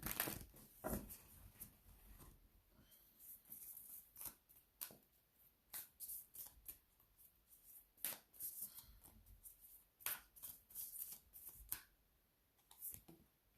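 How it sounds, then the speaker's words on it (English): Very quiet, close papery riffling and soft card clicks come in uneven bursts as a tarot deck is shuffled repeatedly, with no voices. "Let's go one more shuffle for my Saggies."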